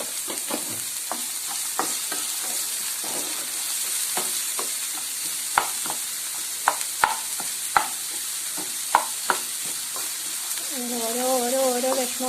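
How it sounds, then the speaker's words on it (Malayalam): Onions frying in a pan with salt for a vegetable kurma: a continuous loud sizzle broken by repeated sharp clacks of a spoon against the pan, with a brief humming or voiced tone near the end. "ഉള്ളി വാടാൻ വേണ്ടിയിട്ട് അതിനുള്ള ഉപ്പ് ഇടുന്നുണ്ട്."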